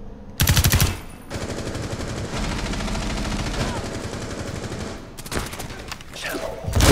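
Rapid automatic gunfire and bursts of shots in Rainbow Six Siege on the Border map, loud and dense, with a brief pause before more volleys resume near the end; a voice is faintly present.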